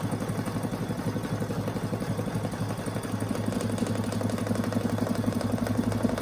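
An embroidery machine stitching a cork pen holder in the hoop, giving a steady rapid mechanical chatter at close range that grows slightly louder partway through, with no voices.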